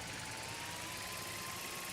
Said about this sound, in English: Here, give the drone a whirl around campus.